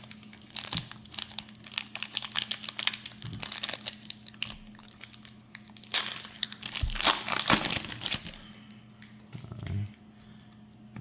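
A Pokémon card pack wrapper crinkles and tears open up close, a steady run of crisp foil crackling and rustling that swells and fades over several seconds, with no talking.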